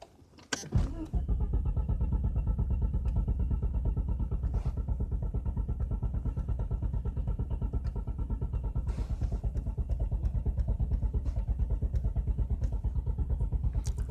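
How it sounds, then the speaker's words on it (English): Motorcycle engine out of gas, cranked by the starter after a sharp click, then a long steady rapid whirring churn that never catches, loud and close with no speech. "Are you hearing that? It's out of gas."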